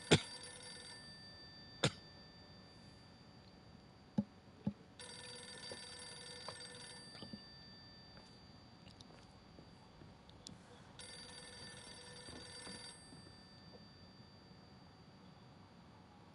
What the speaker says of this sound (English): A rotary phone? What year is this?